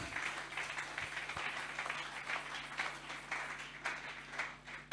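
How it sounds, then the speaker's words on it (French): A church congregation applauds in continuous, rhythmic clapping that sounds faint and somewhat distant, steady over several seconds with slight swells. "Acclamons le Seigneur."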